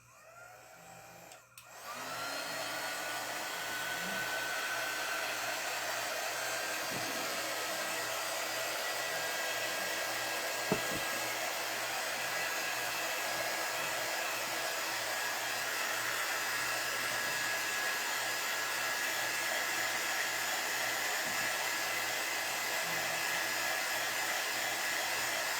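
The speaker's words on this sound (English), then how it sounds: "might get loud for a second so I can dry the paste." A hair dryer runs continuously at close range for over twenty seconds with a steady whirring roar, drying paste on a wooden cutting board after a brief click as it switches on.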